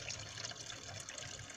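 Cooked pasta water pours through a strainer in a van kitchen, a steady close splashing rush that runs the whole time with no talk.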